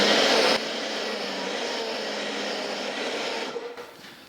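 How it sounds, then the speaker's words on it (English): Compressed air blasts dust out of shop filters, a loud steady rushing hiss close up that tapers off near the end. "I literally just take the filters out, and then I blow them out."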